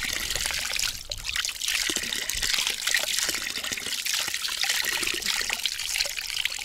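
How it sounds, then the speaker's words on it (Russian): Tap water runs in a continuous splashing trickle while freshly caught lake crucian carp are being washed, steady and close with small irregular splashes and no talk. "Вода очень чистая бежит"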